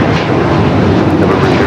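A Hawaiian Airlines A321neo jet roars on its takeoff roll at Los Angeles International Airport, a loud, close, broadband engine rumble sustained throughout the brief moment with no voices.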